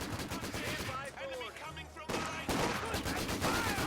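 Machine gun bursts and scattered gunfire from a Company of Heroes 2 World War II strategy battle, with rapid rattling volleys over busy battlefield ambience and a voice talking over it.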